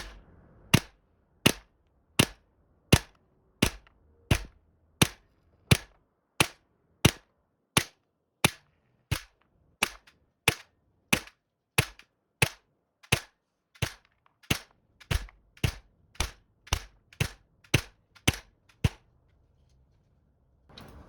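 A GHK M4 airsoft rifle fires 0.2 g BBs on red gas, about two dozen sharp, evenly spaced single shots cracking out roughly every 0.7 seconds, loud and close, with silence between them.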